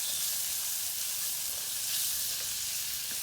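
Lubia Polo ingredients frying in a pan after salt and pepper go in, a constant loud close sizzle with faint stirring scrapes, steady throughout and without talk.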